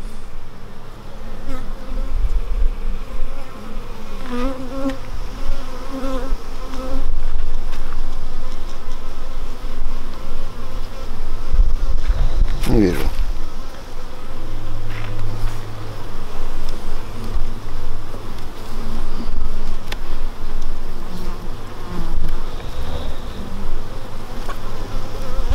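Steady, dense buzzing of many honey bees in an open hive close by, a continuous droning hum with slight swells in loudness and no talking.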